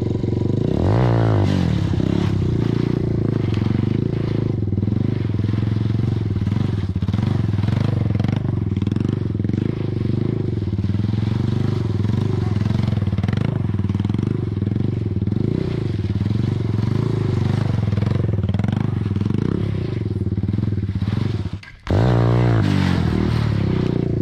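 An Apache 180 RTR motorcycle runs continuously during stunt riding, a loud steady engine drone with rising revs near the start and a brief cut before it resumes near the end.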